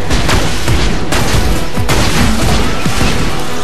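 Grenade blasts from the Borderlands 2 video game, a loud dense barrage of booming explosions and crashes with repeated sharp impacts layered over continuous rumbling battle noise.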